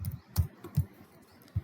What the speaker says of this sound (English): Within quotes I am just typing hello welcome to Java.